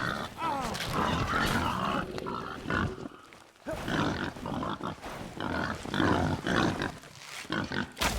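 Pigs grunting and snuffling close by, a busy, continuous chorus of low grunts and squeals with a few brief pauses, as if many animals crowd around.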